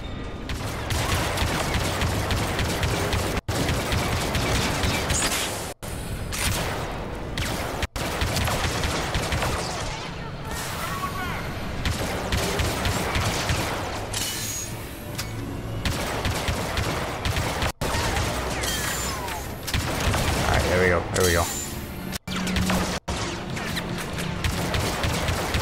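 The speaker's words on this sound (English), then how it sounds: "Alright, he's shooting me." Blaster gunfire in Star Wars Battlefront 2, loud sustained volleys of rapid shots running nearly nonstop, broken by a few sharp cuts, with no voices.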